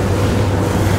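A luxury Italian RIB powers through choppy sea waves, a loud, steady rush of hull, water and wind buffeting close to the microphone, with no talking.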